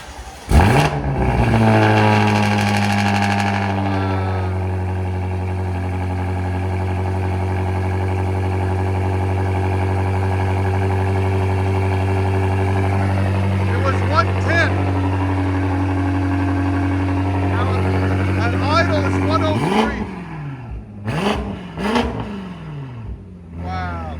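A modified German V8 with a 3-inch stainless steel exhaust, open valves, new tips and Flowmaster Outlaw mufflers revs loudly up close in a long sustained roar, then settles into rough idle blips.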